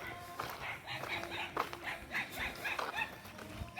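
Dogs barking outdoors around a garden in Karaikudi, a few sharp intermittent barks at moderate distance, interleaved with someone talking nearby.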